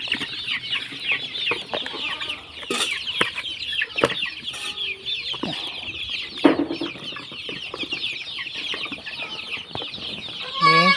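Chickens cluck and chatter steadily and close by as water is given to them, a dense overlapping flock sound with occasional sharper calls and clatter.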